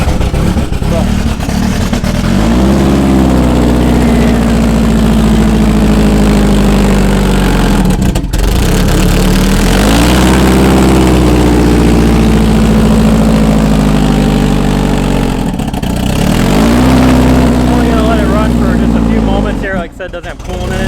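An engine with no coolant runs and idles roughly, revving up and settling several times, loud and close, with people talking over it.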